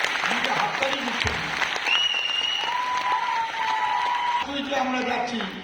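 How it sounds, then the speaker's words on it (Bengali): Loud, continuous clapping from an audience at a Modicare gathering, a thick wash of hands that holds throughout while a voice speaks over it and some tonal sound drifts in the background. "জোরে হাততালি"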